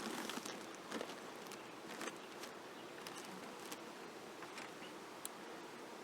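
Honey bees in a beehive box under newspaper sheets, kept in the tropics, give off a steady, close, continuous buzzing hum, with scattered light taps and rustles throughout and no talk.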